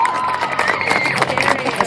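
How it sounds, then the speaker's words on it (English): A crowd at an alligator show at the Jacksonville Fair applauds and cheers, a steady dense wash of clapping and shouting that holds level throughout. "Give him a nice big round of applause."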